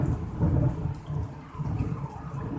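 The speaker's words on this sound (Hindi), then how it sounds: "बादल गरजे भी आपने देखा।" Thunder rolls during a rainy day, a deep rumbling swell that rises and fades in waves over a soft wash of rain, with no voices.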